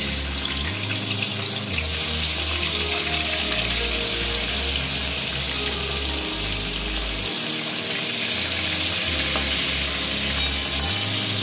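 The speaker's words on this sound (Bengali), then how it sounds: "সরষের তেল গরম হয়ে গেছে। এবার আমি মাছগুলো একটা একটা করে ছেড়ে দেব।" Fish fry in hot mustard oil, a loud continuous sizzle and crackle close up with steady hissing throughout.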